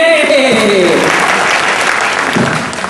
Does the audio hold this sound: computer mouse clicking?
no